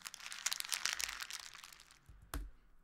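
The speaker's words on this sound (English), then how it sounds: "that's me just rustling some crisp packets with some reverb and distortion on" Crinkly crisp packet rustling, harsh and distorted with a reverberant wash, followed by a brief pause and one sharp crunchy crackle.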